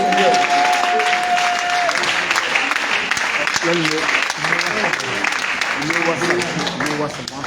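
A church congregation applauds and cheers in acclaim during a service, with sustained, dense clapping and crowd voices over a brief musical tone, fairly close and loud throughout.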